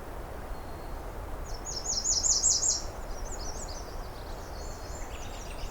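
Thin, high Nashville warbler song trills drift in from a distance over a steady background hiss, repeating a few times and fading.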